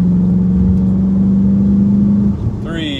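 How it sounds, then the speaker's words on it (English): A 2019 Volkswagen Jetta 35th Anniversary Edition idles with a steady engine hum, then its engine note climbs as the car starts to accelerate near the end, heard from inside the cabin. "here we go on Rod's brake test."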